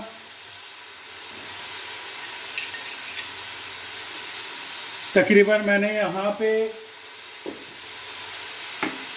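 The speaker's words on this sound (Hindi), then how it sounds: "इसको तकरीबन हम 5 से 10 मिनट तक इसकी अच्छे तरीके से गोश्त की भुनाई करेंगे" Mutton sizzles softly in a pot as it is fried and stirred for aloo gosht, a faint steady hiss with occasional scraping, while someone speaks briefly over it.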